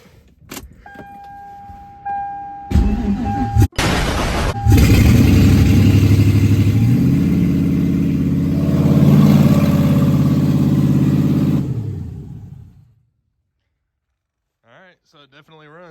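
A car engine, a new motor fitted with a new cam and oil pump and freshly timed, cranks and fires about four seconds in, then idles loudly and steadily for roughly eight seconds before shutting off into silence.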